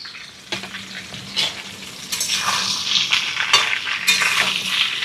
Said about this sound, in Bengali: সমস্ত মশলা দিয়ে দেওয়ার পরে আমগুলোকে একটু নেড়ে চেড়ে ভালো করে কষিয়ে ভেজে নিতে হবে।